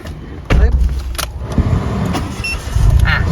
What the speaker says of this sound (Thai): อ่ะเดี๋ยวติดเครื่องดีกว่า